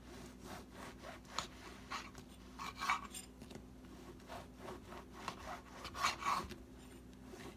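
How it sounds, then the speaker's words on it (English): A knife saws through bread in a series of quiet, rhythmic rasping strokes, close by, with a few sharper scrapes. "For your bread, you're just going to slice up some slices here."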